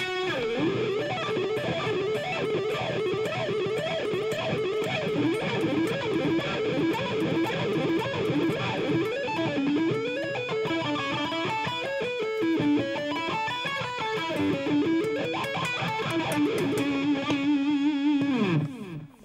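An electric guitar plays with a wah pedal, fast melodic lines jumping across strings, the tone sweeping open and closed, ending on a held note.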